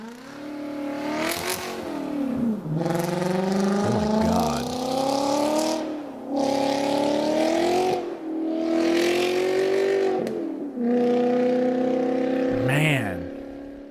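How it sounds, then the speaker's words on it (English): Volkswagen Passat W8 engine revving as played back from a recording, repeated rising and falling revs in several long pulls, loud and steady, with a brief exclaiming voice. "There's so many Passat W8 videos. Well, people, that's probably one of the best sounding motors."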